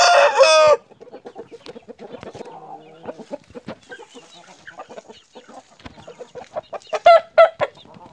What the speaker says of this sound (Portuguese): Então, tem esse galo aqui,